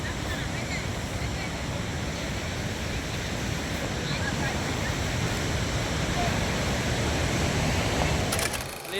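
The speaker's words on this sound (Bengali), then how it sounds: "ব্যারেজ থেকে জলটা বেরোচ্ছে, তার এতেই এখন আনন্দ উপভোগের জায়গা।" Water pouring out of a river barrage in the Dooars foothills during low winter flow, a steady, broad rushing roar that holds constant throughout with no voices.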